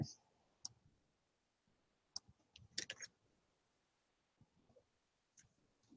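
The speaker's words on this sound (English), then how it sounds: "I'm typing up the schedule." Scattered soft clicks of typing on a computer keyboard, irregular and faint, with quiet background hum.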